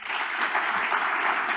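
A hall crowd at the Big Irish Campfire 2022 gathering bursts into steady, dense applause, loud and continuous with no voices over it.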